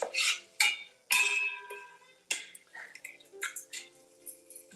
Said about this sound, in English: Now thinly slice a white onion.